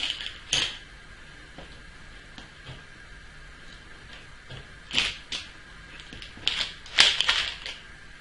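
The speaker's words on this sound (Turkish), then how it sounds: "Kalıbı açalım." Springform cake pan being opened, its metal latch and ring giving a few scattered faint clicks and sharp metallic snaps in a quiet kitchen.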